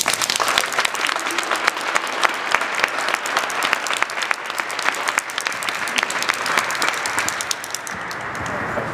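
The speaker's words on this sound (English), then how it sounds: "Please join me in a round of applause for Lieutenant Governor Brad Little" A room of attendees at a Type 1 Diabetes Awareness Day proclamation event in Idaho claps for the Lieutenant Governor in a sustained, loud round of applause, individual hand claps popping through the steady roar.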